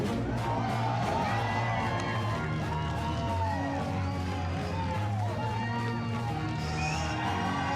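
A crowd at the Battlefield 1 reveal livestream cheers and whoops loudly and continuously, dense with overlapping shouts and voices, close and sustained throughout.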